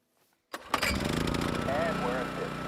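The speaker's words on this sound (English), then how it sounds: "Just stick a little fuel in the generator and fire it up." A generator in the hunting game Hunter: Call of the Wild is fuelled and started up, catching with a sharp burst after a quiet moment and then settling into a steady, loud running drone.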